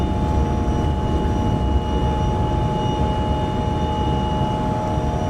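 Airbus airliner engines at takeoff thrust in a flight simulator make a loud, steady, continuous roar with a constant high whine running through it, without a break.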